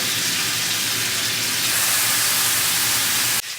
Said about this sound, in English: we're gonna sear them on all sides, probably like 2 to 3 minutes a side